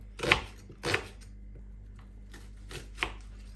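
A knife chops through an onion on a board in a few separate, crisp cuts with quiet pauses between them, close and moderately loud, with no talking.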